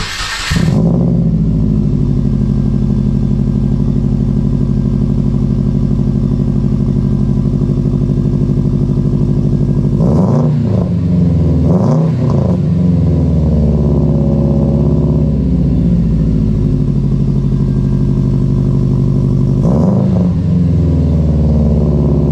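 A 2011 Subaru engine runs through an eBay exhaust with the baffle removed: a loud, throaty, steady idle broken by three sharp throttle blips, close up and with no talk.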